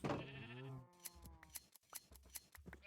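A sheep bleats once in a blocky Minecraft-style video game, a wavering call at the start followed by a string of sharp clipping snips, heard clearly.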